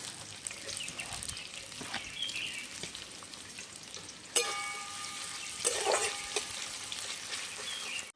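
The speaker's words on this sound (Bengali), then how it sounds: "পেঁয়াজটা হালকা ভেজে নিয়েছি লাল লাল করে" Chopped onion frying in white oil, a steady soft sizzle with occasional sharper crackles and a couple of utensil clinks, close and fairly quiet.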